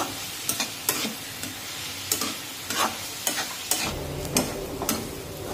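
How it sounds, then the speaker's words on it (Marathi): Onion roasting in a pan for dried shrimp chutney, with a steady sizzle under repeated sharp scrapes and stirs of a spatula, fairly close and continuous with no talk. "आता हा कांदा हलकासा तांबूस रंगावर आपण भाजून घेऊ।"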